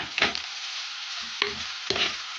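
An onion mixture with curry leaves and salt is sautéed for a sardine curry: a soft sizzle runs under a few sharp spoon scrapes and stirring knocks against the pan.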